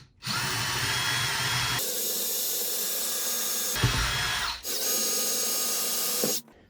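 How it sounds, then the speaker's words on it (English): A power drill whines steadily while drilling pilot holes through an exterior door in two long bursts with a brief pause between, loud and close, ending abruptly. "let's drill the pilot holes."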